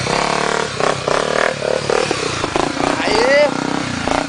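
Motorcycle engine revving and straining as the bike is dragged through thick mud, with clattering and scraping and shouting voices over the engine noise throughout.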